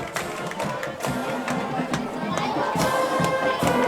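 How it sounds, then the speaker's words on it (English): A loud, dense roar from the crowd at a Concord versus Goffstown high school football game fills the whole stretch, with the school band playing somewhere within it. Voices and cheers swell steadily with no pause. "Now we got the band getting the crowd into the game,"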